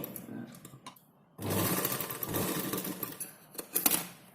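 After a brief quiet lead-in, a sewing machine stitches blouse fabric in a close, fast mechanical whirr, with slight pauses and surges toward the end.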